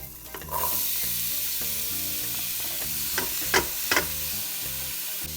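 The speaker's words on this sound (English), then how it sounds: "this we're just gonna fry down until we start seeing some caramelization, some color on it" Mixed vegetables fry in oil in a pot for slow-cooked pulled beef, giving a loud, steady sizzle with a few sharp spatula scrapes and clinks near the end, and no talk.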